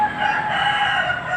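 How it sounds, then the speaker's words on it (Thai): A rooster crows loudly and close by, one sustained, strained call filling the moment. "ฟังเสียงไก่ขันไปนำครับ"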